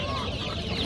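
A rooster for sale at a poultry bazaar gives a quick, close cluck, a single short burst over market background noise.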